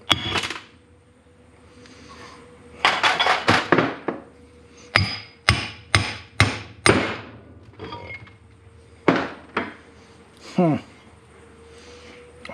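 A hammer strikes a bearing in the gearbox of a New Holland 256 hay rake, a rapid series of sharp metallic knocks in bursts. Faint talk can be heard in the background.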